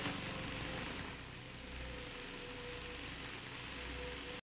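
A lawnmower engine drones steadily in a film scene, a loud continuous rumbling motor with a slight dip in level partway through and no voices.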